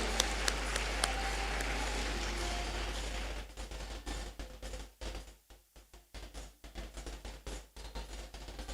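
An audience at a university academic awards ceremony claps for a student award recipient, a broad steady applause that thins into scattered, uneven individual claps toward the end.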